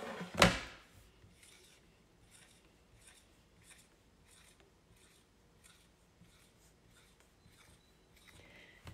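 Pencil scratching on paper as eleven Takis are drawn one by one, a sharp tap at the start followed by a steady series of short, faint strokes in a quiet room.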